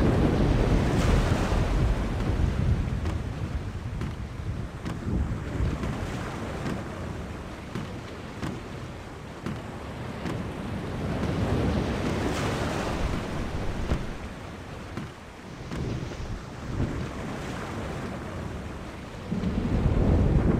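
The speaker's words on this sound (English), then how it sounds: "The storm is closing in." A roaring stormy sea in the video game The Longest Journey, the Chaos Storm, with heavy wind and crashing waves, steady and loud throughout, with low rumbles like distant thunder.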